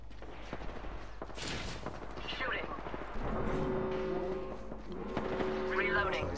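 Bursts of gunfire in a video game crackle through a busy mix, with several sharp shots early on and more scattered fire later, heard under a voice talking throughout.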